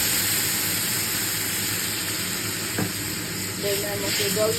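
Water poured into a hot pan of pabda fish curry gives a steady, loud hiss and sizzle, rising into a bubbling rush near the end.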